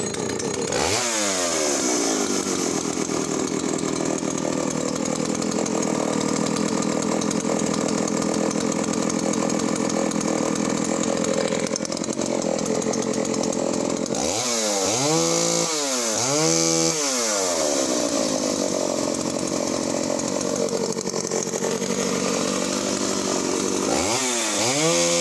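Vintage Norlett chainsaw engine running steadily at close range, with a couple of sharp revs in the middle and another rev at the end.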